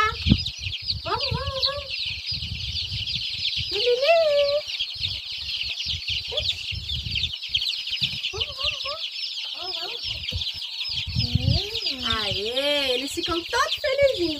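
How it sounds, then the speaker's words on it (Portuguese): Chicks and chickens on a rural farm cluck and peep after being let out, a dense chorus of high peeping over scattered louder clucks and calls, with speech mixed in throughout. "Olha, gente, a felicidade dos pintinhos quando eu solto. Eles ficam doidinhos."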